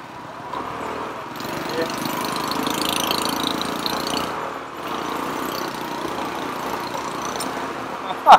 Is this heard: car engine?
yes